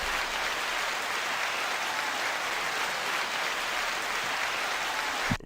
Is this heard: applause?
yes